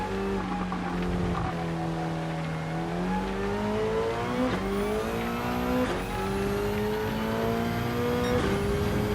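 A race car in Gran Turismo drives through the final chicane, its engine note rising and dropping steadily through the gears across the clip, loud and continuous with no talking.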